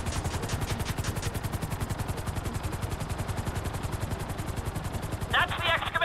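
Rapid automatic gunfire in Grand Theft Auto V, a steady rattling burst of shots running throughout with helicopter rotor thumping underneath and a sharper high crackle near the end.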